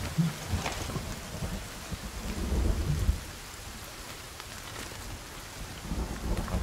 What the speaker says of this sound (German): Jetzt regnet's wegen dir.